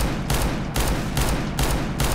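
Rapid, unaimed alternate-fire shots from an R8 Revolver in CS:GO, coming as four loud broadband blasts spaced roughly half a second apart, each trailing off briefly before the next.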